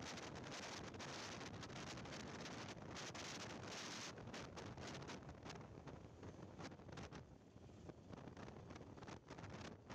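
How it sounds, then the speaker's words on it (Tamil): Strong wind buffets a motorbike riding along a highway bypass near Theni, a loud continuous roar with rapid gusty fluctuations throughout, the engine barely distinguishable beneath the rushing air. "காற்று பயங்கரமாக அடிக்குது"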